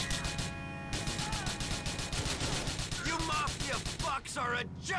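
Rapid bursts of gunfire ring out from a car during a mission in the video game GTA The Lost and Damned, dense and loud over a layer of game music and voices.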